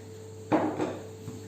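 A frying pan handled in a kitchen: one sharp metallic knock, a second softer clatter just after, then a faint tap, all close over a quiet hum.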